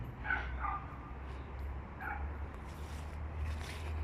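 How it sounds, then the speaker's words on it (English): Dogs barking somewhere in a multi-story Russian apartment building, distant and muffled, a few short yips and barks scattered over a steady low hum of background noise. "dogs barking."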